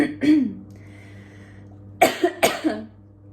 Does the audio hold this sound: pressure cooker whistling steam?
no